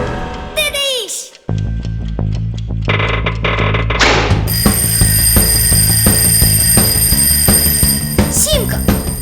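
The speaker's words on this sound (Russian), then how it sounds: "Симка, кажется, звонит мой будильник." A loud, continuous mechanical alarm clock bell rings steadily for several seconds, with a rattling metallic clatter and brief whistling sounds at the start, in a Fixiki cartoon.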